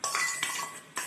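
Maggi noodles go into a pot of boiled vegetables with a few sharp metallic clinks and scrapes of a utensil against the pot, brief and close.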